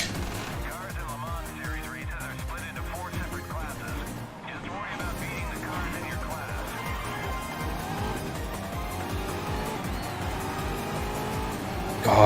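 A GT1-class race car in the GRID racing video game launching at Donington, its engine screaming through rapid gear shifts with a brief dip in the middle, while someone talks over it throughout.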